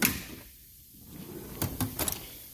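A drawer on a Harbor Freight five-drawer tool cart slides open, a close, fairly faint run of metallic sliding clicks and rattles near the end of an otherwise quiet moment, with no talking.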